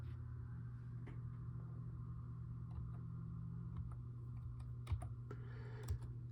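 Faint keystrokes tapping on a computer keyboard in a quiet room, a short run of soft clicks with a couple of sharper key hits near the end, over a low electrical hum.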